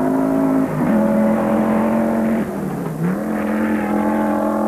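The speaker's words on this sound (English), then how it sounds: "The second of the Audis, that's Manfred Stahl." Audi rally car on a gravel stage at the 1993 WRC Rally Argentina, its engine loud and close, revving hard through gear changes with shifting pitch, no talk over it.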